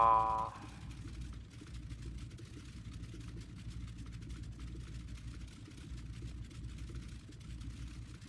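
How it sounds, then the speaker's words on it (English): Light aircraft engine heard from inside the cockpit with the window closed, a steady muffled low drone and whir that holds evenly throughout after a brief louder start, with no talk. "close the window and make it sound quieter. Hopefully not too quiet, so you should be able to hear the engine."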